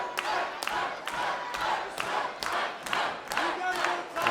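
A pro wrestling crowd in an arena cheers loudly, with rhythmic chanting or clapping pulses about twice a second over a dense roar.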